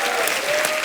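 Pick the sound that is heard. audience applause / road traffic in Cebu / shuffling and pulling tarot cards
audience applause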